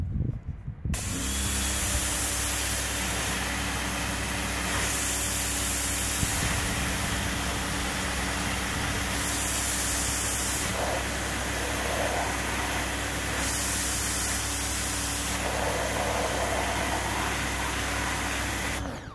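A Parkside PHDS 110 A1 Silent pressure washer sprays hard through its variable nozzle, a loud steady hiss and rush of water under the motor hum, with brief changes in the spray as it is adjusted.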